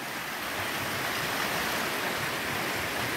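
Creek water flows steadily just after a crossing on a gold sluicing outing, a dense, even broadband rush heard up close with no voices.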